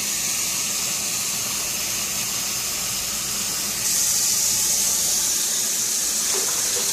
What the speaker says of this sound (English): But I'm going to add 7 just to make sure that I have enough water